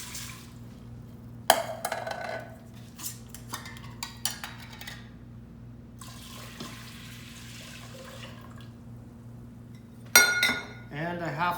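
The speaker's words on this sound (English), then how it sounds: "I'm going to put 5 cups of water." Water is poured from a measuring cup into an Instant Pot holding one cup of grain, with clinks of glassware and splashing in several short bursts amid quiet kitchen background.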